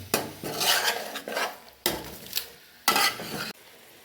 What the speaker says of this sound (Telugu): ఇప్పుడు దీన్ని బాగా మిక్స్ చేసుకోవాలి